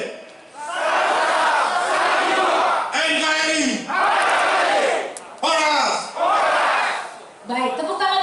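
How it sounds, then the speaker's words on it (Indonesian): A crowd at a Pemuda Batak Bersatu declaration event shouts its chant together in loud, full-voiced bursts, four or five surging cries separated by brief pauses, filling the indoor space. "bagaimana kalau kita bersama-sama meneriakan yel-yel Pemuda Batak Bersatu"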